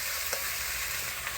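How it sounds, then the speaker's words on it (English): Pork meat frying with onion in a hot pan over a high flame gives off a steady close sizzle, with a couple of faint clinks from stirring and no voices. "next step when we are putting the meat in while frying"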